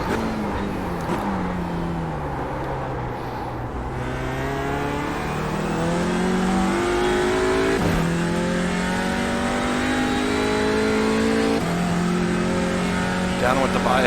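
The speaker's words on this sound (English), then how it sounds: "Playing with the throttle." A TCR race car engine at Sonoma revs up and down as the throttle is worked, with rising and falling tones, sharp shifts and steady loud roaring throughout, apparently from inside the car.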